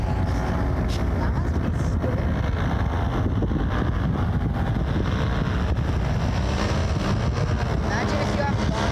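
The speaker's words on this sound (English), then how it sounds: "Nothing like having a motor strapped to your back with a" A paramotor engine with a strapped-on propeller drones steadily and loudly throughout, close to the microphone, with wind buffeting mixed into the constant roar.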